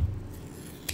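Scissors snipping through tape, one short crisp cut near the end of a brief moment with faint low rumble before it, close and alone.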